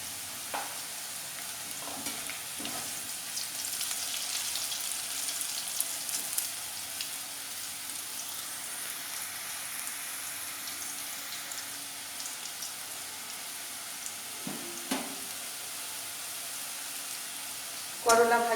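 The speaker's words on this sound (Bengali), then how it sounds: "একটু বেশি তেল দিয়ে নেড়ে নেড়ে ভেজে নেব।" Bitter gourd shallow-frying in a generous amount of oil in a pan, a soft continuous sizzle with occasional scrapes of stirring and a louder clatter at the very end, and no talking.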